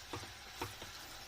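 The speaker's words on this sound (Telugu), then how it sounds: "బెండకాయని ఇట్లా ఒకసారి మళ్ళీ కలుపుకోండి." Spatula stirring okra curry in a pan, a few soft scraping strokes over a faint sizzle, close and quiet.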